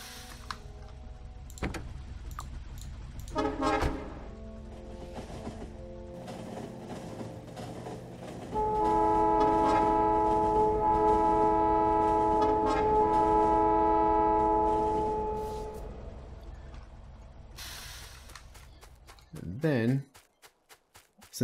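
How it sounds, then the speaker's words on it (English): An arriving train in the video game Factorio, with a sustained steady mechanical tone holding for several seconds, then fading out, preceded and followed by scattered short clicks and bleeps. "let's send the train over here to pick us up"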